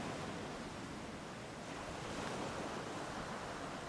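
Ocean swells and surf in an Icelandic bay, a continuous broad roar of waves with wind, steady and dense throughout, no voices.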